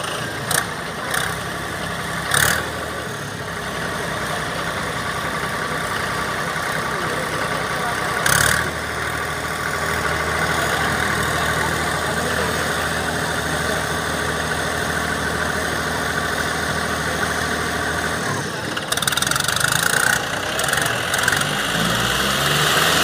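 Tractor engines idling at a village tug-of-war contest between John Deere 5310, Swaraj 855 FE, Sonalika 60 and Preet 6049 machines, a steady loud diesel rumble with vibration and a few sharp knocks and revs throughout.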